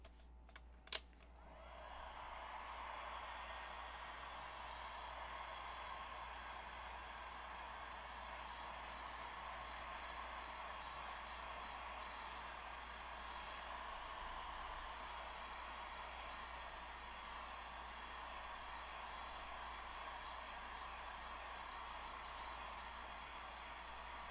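A hair dryer blows steadily over a fresh paint pour in a studio, a constant close whooshing hum that runs unchanged for about twenty seconds after a couple of brief clicks at the start.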